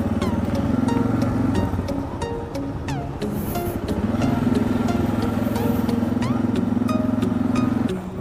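Dual sport motorcycles riding near Lost Lake, Oregon, with a steady droning engine note that rises and holds close by, along with wind rush and a few clicks.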